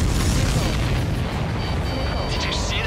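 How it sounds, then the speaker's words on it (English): A missile explodes in a combat flight video game: one loud, heavy boom that rolls on as a dense, sustained roar of debris and rumble for several seconds. "Did you see that explosion?"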